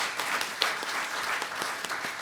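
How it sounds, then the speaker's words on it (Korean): Audience applause at a patent policy forum, a dense, even round of clapping from a seated crowd, moderately loud and sustained for the whole stretch without talk. "여러분 박수 한번 좀 부탁드리겠습니다"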